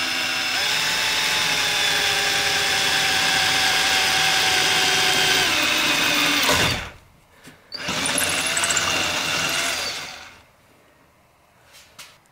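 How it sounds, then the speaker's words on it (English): A power drill whines loudly and continuously while driving 2-inch self-tapping screws into the metal body of a Sprinter van, stopping abruptly, then running again in a second burst before falling quiet. "It's always scary drilling into the body of the van."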